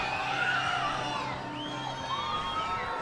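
A Saturday night crowd at Newman Outdoor Field cheers and whoops through a minor league baseball game between the Fargo-Moorhead RedHawks and Winnipeg Goldeyes, a steady roar of many voices with scattered shrill yells rising above it.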